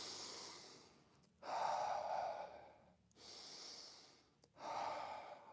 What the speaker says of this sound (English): And 2 deep breaths.